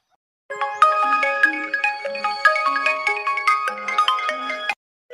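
A mobile phone ringtone plays a bright, melodic electronic tune of quick repeating notes, loud and close, for about four seconds with nothing else heard.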